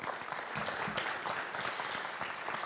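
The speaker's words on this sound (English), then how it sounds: "that's a big applause" An audience at a startup pitch competition applauds, a dense, steady round of many hands clapping that carries on throughout at moderate distance.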